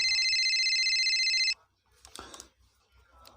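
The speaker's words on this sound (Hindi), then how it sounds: "कंप्यूटर महोदय, इनके पिताजी पर फोन लगाया जाए।" A telephone bell rings loudly for about a second and a half in a rapid electronic trill, then stops; brief faint noises follow in a comedy game-show setting as a call is placed to a contestant's father.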